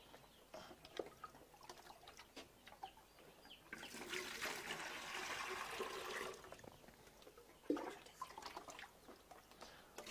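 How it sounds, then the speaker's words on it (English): Water poured onto vitamin powder to fill chick drinkers for a flock of 300 chicks: a faint, steady splashing pour lasting a couple of seconds, with quiet chick cheeps and rustling around it. "Then add some water."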